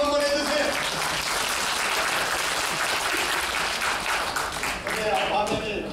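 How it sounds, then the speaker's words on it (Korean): An audience at a senior-model talk applauds, a broad continuous patter of clapping that holds steady across the whole stretch, with voices faintly mixed in underneath. "박수 한번 해주세요."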